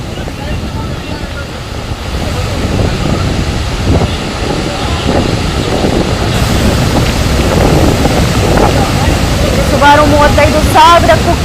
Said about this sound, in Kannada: ಕ್ಯೂಸೆಕ್ ನೀರು ಟಿ ಬಿ ಡ್ಯಾಮ್ನಿಂದ ಹೊರ ಬರ್ತಿರುವಂಥದ್ದು